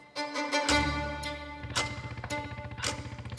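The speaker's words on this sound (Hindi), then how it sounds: "ये पीछे किसी मोटरसाइकिल की आवाज है।" Cruiser motorcycle engine heard faintly in the background of a video-call recording, a steady low throbbing rumble with a pulsing beat running under other tones throughout.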